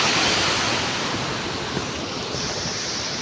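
Steady roar of falling water at Gubawen Falls, a dense continuous rush with no talk and no breaks, close and fairly loud throughout.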